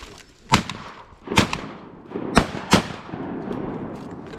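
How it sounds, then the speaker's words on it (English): Shotguns fire at ducks over a flooded rice field in Arkansas, four sharp outdoor blasts in quick irregular succession, close and loud, with faint ambient noise between them. "Shoot those, Bob."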